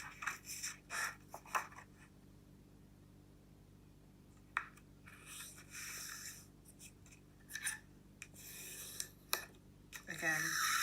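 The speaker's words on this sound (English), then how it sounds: "Take your ruler and score it for a nice crisp fold, and then fold lengthways." Paper being scored with a ruler and folded lengthways, with short scraping strokes and crisp creasing rustles in bursts separated by quiet gaps, close and fairly soft.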